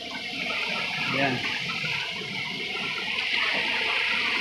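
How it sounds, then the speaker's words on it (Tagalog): Flood water after heavy rain rushes steadily into a shop, a continuous close hiss and gush of flowing water, with someone speaking briefly over it. "Yan, tubig baha."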